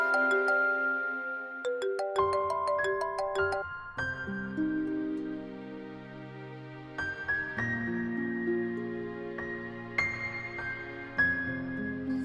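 A phone ringing, heard as a bright electronic melodic ringtone of stepped tones repeating for the full stretch, fairly loud and alone with no talking.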